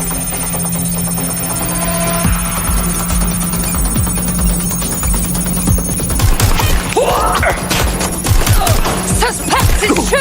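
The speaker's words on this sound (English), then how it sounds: "Suspect is shooting!" Rapid gunfire bursts ring out in Watch Dogs Legion on PS5, loud and close, with repeated shots stacking into sustained volleys over a steady electronic hum and some distant crashes.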